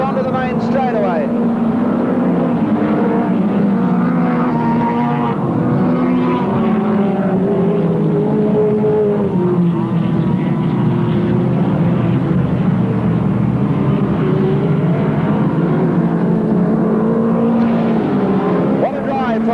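Speedcars race around a speedway track at the 1986 Ray Revell Memorial, their engines droning loud and continuous with pitch rising and falling through the corners, while a commentator talks over the top.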